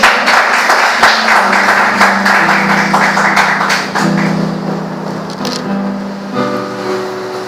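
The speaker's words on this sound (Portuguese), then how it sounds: "Você pode aplaudir a Deus?" A church congregation applauds throughout, steady dense clapping at moderate loudness, with a sustained organ or keyboard tone underneath and a few sharper taps near the end.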